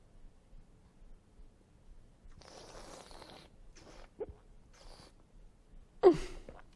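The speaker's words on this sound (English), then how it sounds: "We're going to do the inverted whistle." A soft, breathy intake of air with a faint gurgle, followed by a sharper slurping burst near the end, close and quiet: air sucked through a mouthful of wine in wine tasting.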